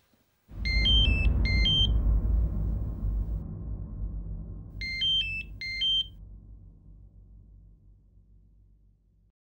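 A phone rings with two short bursts of electronic chirping tones, then a pause and two more, over a loud, deep dramatic music sting that slowly fades away.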